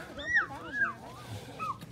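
A dog whimpers and whines in short rising and falling cries, near and moderately quiet, with faint background voices.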